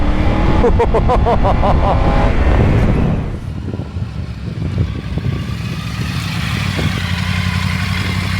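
A Triumph Tiger GT 900 Aragon Edition three-cylinder motorcycle engine pulls hard while riding, a loud close rising roar that drops off after a few seconds into a lower steady rumble with wind noise.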